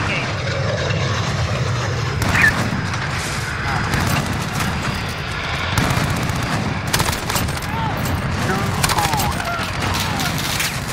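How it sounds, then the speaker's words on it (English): Gunfire in Call of Duty: Modern Warfare, scattered shots and bursts running through a busy game mix while players shout and talk over it. "We're taking some fire."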